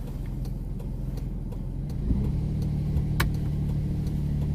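A car engine revving as it climbs a steep country road, a steady close engine drone that rises slightly partway through, with no talk.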